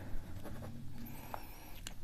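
Pen scratching on paper while a maths answer is written out, a close, soft, continuous scribble with small strokes and taps and no voice.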